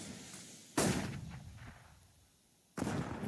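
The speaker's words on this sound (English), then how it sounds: "And another nade." HE grenade blasts in a CS:GO pro match between G2 and Team Spirit, two loud sudden booms with a decaying rumble between them, the second coming about two seconds after the first.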